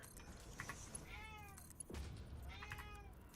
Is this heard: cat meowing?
yes